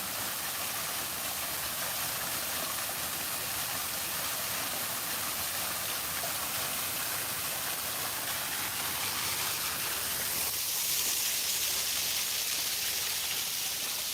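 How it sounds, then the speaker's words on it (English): A man-made waterfall in a park at Scovill Zoo rushes as a constant broadband hiss, steady and moderately loud throughout, with a slight swell near the end. "And there's their waterfall that they built."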